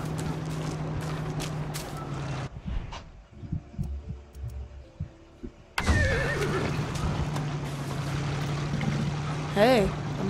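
A horse whinnies near the end in the video game Far Cry 6, a rising and falling neigh over background music and game sounds, with a quieter stretch in the middle.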